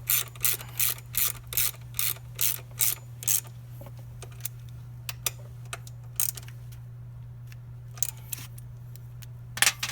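A ratchet wrench tightening a bolt on a Yamaha XSR900 passenger peg extension, a rapid run of close, loud clicking strokes followed by sparser clicks over a steady low hum.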